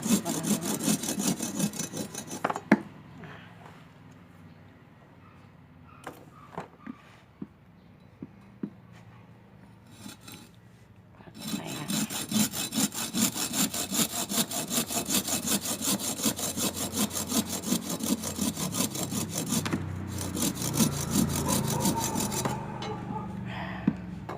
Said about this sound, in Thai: อันนี้ก็คือใช้เลื่อยทำเองค่ะ